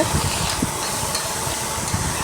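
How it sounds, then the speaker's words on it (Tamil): Ginger garlic paste sautéing in a pan for prawn biryani, a close, steady frying hiss with soft scraping stir strokes throughout and no speech. "நெக்ஸ்ட்டு இஞ்சி பூண்டு பேஸ்ட்டு நல்லா பச்சை வாசனை போகிற வரையும் நல்லா வதக்கிக்கலாம்"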